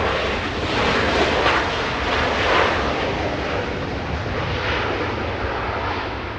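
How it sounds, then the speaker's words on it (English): A WestJet airliner arriving from Toronto at Los Angeles International Airport passes with a loud jet engine roar that swells and settles into a steady wash, close and unbroken. "That's the WestJet in from Toronto"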